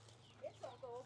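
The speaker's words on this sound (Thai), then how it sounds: "เป็ดหลายตัว" Several ducks being fed by a woman in a rural Lao yard give short, honking quacks and squawks, a few overlapping calls close by over a low steady hum.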